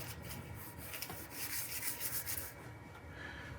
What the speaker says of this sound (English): We're going to sand that in.